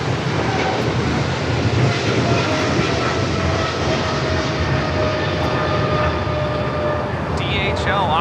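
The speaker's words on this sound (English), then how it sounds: "DHL operated by Polar Air Cargo 992, taking off to Cincinnati on the 777 freighter." A Boeing 777 freighter in DHL service, operated by Polar Air Cargo, takes off from LAX bound for Cincinnati, giving a loud, constant engine roar that fills the whole stretch while people talk under it.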